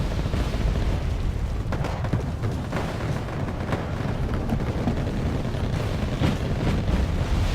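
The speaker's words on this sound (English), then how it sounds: "And artillery fire from Nato as well" Artillery fire from a Wargame AirLand Battle match, a steady low rumble of distant booms with several sharper thuds standing out, continuous battlefield noise throughout and no voice.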